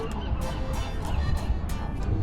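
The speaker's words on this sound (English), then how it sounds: "Got a seagull standoff with pigeons." Seagulls and pigeons squabble on a seaside promenade in Ensenada, Mexico, with several sharp honking calls repeating over a dense, close outdoor ambience.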